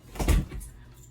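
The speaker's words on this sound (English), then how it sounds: "Let me close my door." A room door swings shut with a soft, muffled thud and a brief rattle, close by and fairly quiet, followed by a faint settling sound.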